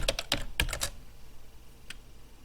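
Keys clatter on a computer keyboard in a quick cluster of close, crisp taps, then stop, followed by one last isolated keystroke near the end.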